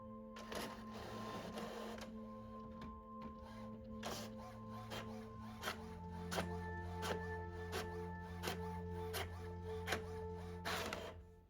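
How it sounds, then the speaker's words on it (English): An inkjet printer prints onto matte adhesive-backed film, running steadily with a humming motor and repeated sharp clicks and clacks as the print head shuttles back and forth. "I'm going to print out my printable onto the matte adhesive back film for the inkjet printer"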